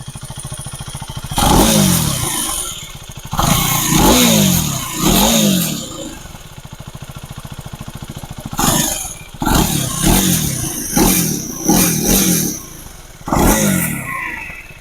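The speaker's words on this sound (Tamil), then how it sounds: "இப்போ வந்து பார்த்திங்கன்னா நம்ம வண்டியோட எக்ஸாஸ்ட் நோட் கேட்கலாம்." KTM Duke 390 Gen 3 motorcycle with an underbelly exhaust, revved repeatedly in short bursts, each throttle blip rising and falling over a steady idle, close and loud with no talk.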